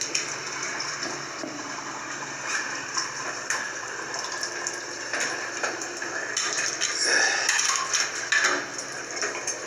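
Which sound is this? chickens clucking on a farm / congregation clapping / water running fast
water running fast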